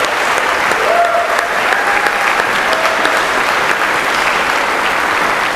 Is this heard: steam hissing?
no